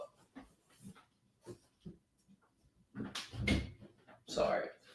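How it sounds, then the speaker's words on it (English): A hungry dog whimpers and makes short breathy noises indoors, quiet and somewhat distant, with scattered muffled bumps and a couple of louder bursts toward the end. "that was the doggy that said, "Yo, Dad, I'm hungry.""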